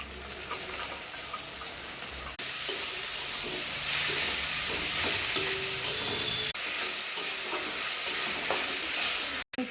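Spices and onions sizzle and hiss steadily in a hot pan with stirring scrapes, a continuous close frying sound that grows a little louder partway through, with no voices.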